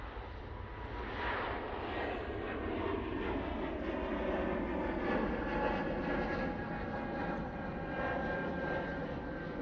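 Swiss Airbus A220 jet taking off for Zurich: a broad, steady engine roar building slightly and holding, heard from beside the runway, moderately loud with no talk.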